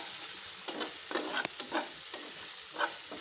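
Cut potatoes added to a hot frying pan, a busy close sizzle broken by several clattering stirs and scrapes of a spoon against the pan, no talking.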